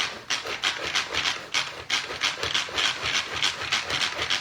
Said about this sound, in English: Add that to my manual food processor.